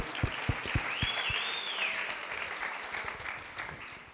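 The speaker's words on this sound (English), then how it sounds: "just a round of applause for all of the incredible women" Audience applause for women honored at a Women's History Month arts event: sustained dense clapping from a crowd, with a few sharp nearby claps at the start and a faint whistle rising over the middle.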